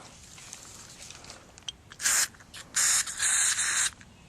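An aerosol can sprays in several short hissing bursts, one quick blast then two longer sprays, close and loud against a quiet background.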